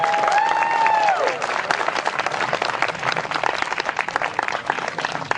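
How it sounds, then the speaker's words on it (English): Rally crowd breaks into loud, sustained applause with scattered cheers, dense clapping filling the whole stretch; a brief musical tone sounds at the start. "let's give everybody a big round of applause"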